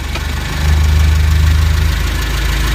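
Suzuki Carry engine, repaired after a rough-running fault following new piston rings, idling close up with a loud, even low rumble that rises slightly after a moment and holds steady.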